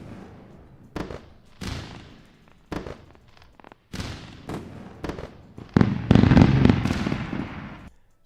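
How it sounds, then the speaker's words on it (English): Fireworks bursts sounding as a string of sharp cracks and pops, spaced irregularly at first and then building into a dense, loud crackling barrage near the end. "we're gonna do a round of fireworks"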